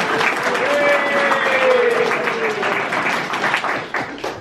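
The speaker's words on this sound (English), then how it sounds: "It says here, loud applause." Loud, sustained applause from a crowd at a speech against conscription, with a sustained tone and some voices mingled through it.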